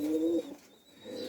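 A female pigeon with green-flower markings coos close by, one low steady call, then a soft dip and a fainter rising coo, with no voices.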